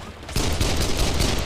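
Enemies in the video game Kane & Lynch open fire in a dense, loud burst of overlapping gunshots that begins abruptly and continues as a steady barrage.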